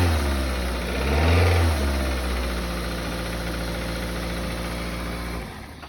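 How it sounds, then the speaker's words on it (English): A used auction vehicle with roughly 204,000 miles runs at a steady, close idle, then gets a brief rev that swells the engine note before it settles back. Near the end the running cuts off abruptly. "a little rev for you, that way you can see it, hear it running"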